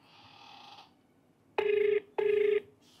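A telephone call to an electricity department number rings unanswered. A faint dial tone comes first, then two loud, evenly spaced ring bursts close by, with no voice.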